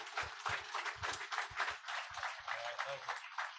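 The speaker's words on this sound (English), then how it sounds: "let's give a round of applause and thanks to Drew Dix." Light, sparse clapping at the close of a JROTC presentation event, irregular and fairly faint, with a voice speaking briefly toward the end.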